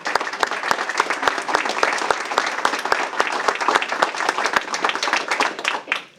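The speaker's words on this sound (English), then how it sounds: "So a round of applause." Stakeholders at a healthcare briefing give a round of applause, many hands clapping in a lively, dense patter with distinct sharp claps throughout, fading quickly at the close.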